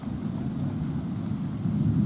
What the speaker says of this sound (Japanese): 雨もですね、今現在降ってきております。 はい、雷もですね、今稲光すごいですね。